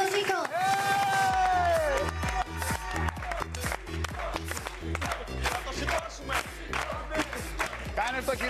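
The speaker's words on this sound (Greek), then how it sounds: "Ένα χειροκρότημα για το Ζήκο." A game show studio audience applauds and cheers, with a short musical sting at the start giving way to rhythmic clapping in time with a pounding beat, loud and continuous throughout.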